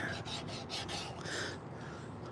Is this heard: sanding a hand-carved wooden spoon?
yes